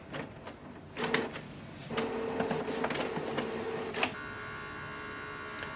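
A Canon Pixma TR8622 printer scans: a few mechanical clicks, then a whirring motor run of several seconds, a thunk, and a steady electronic hum afterward.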